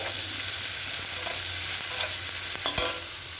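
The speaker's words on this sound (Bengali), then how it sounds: "একটু লাল লাল করে পেঁয়াজটা ভেজে নেবো" Chopped onion with a pinch of sugar and salt frying in a pan, a steady sizzle with occasional stirring scrapes and clicks, no voices.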